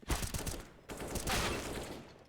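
Rapid pistol fire in a Counter-Strike match, a dense volley of close, punchy shots in two quick clusters lasting about two seconds.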